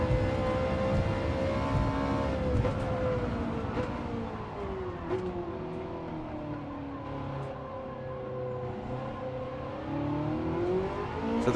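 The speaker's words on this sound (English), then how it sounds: "So the Gallardo sounds like a decent car then" A Lamborghini Gallardo engine in Gran Turismo 7 drones steadily with a rising and falling pitch as the car accelerates and eases off, heard at moderate level without speech over it.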